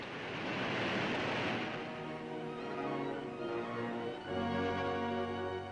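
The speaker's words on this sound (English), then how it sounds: "as for the first time the spillways begin to flow" Water pours over the Columbia River dam spillways as they flow for the first time, a towering waterfall of heavy flow making a loud, continuous roaring rush throughout with no speech.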